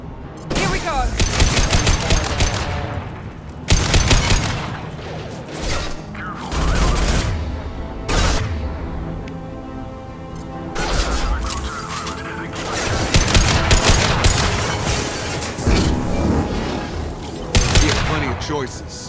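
Gunfire in the video game Mass Effect 2 comes in repeated bursts of automatic weapon fire and booming impacts, loud and dense, with spoken dialogue woven through the combat.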